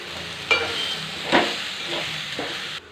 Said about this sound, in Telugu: కలపెట్టుకున్నాం.